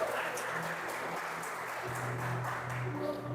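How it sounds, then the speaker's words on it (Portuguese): Church congregation applauding during a sermon, a soft, continuous wash of clapping that runs steadily throughout, fairly distant and low in level. "Você pode dar uma linda salva de palmas a Jesus."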